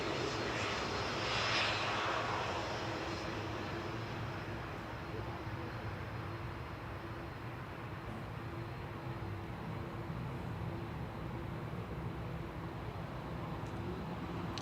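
A Turkish Airlines A321 jet departing runway 05 left at Manchester Airport produces a loud, sustained engine roar that slowly eases, with faint talk at times underneath.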